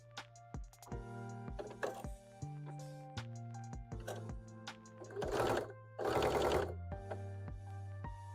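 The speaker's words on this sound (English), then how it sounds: "we'll start sewing on the ears." Sewing machine stitching the ears onto a Lucario hat in short bursts of rapid mechanical whirring, separated by clicks, pauses and handling knocks, fairly close and alone without speech.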